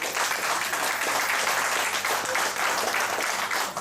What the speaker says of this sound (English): a loud applause to them